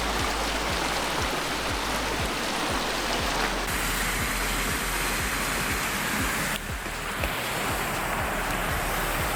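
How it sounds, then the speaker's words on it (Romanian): Heavy rain pours down in the Azores islands, a loud, dense, continuous roar of falling water that holds steady throughout with no voices. "În schimb plouă de rupe, ca de obicei."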